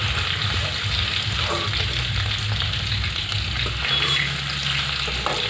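Paneer cubes fry in hot oil in a pan, giving a steady, close, continuous sizzle with faint stirring noises and no talking.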